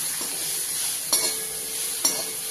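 Steady, close sizzling of chopped greens frying in a pan, with a couple of soft scraping stirs breaking through the hiss.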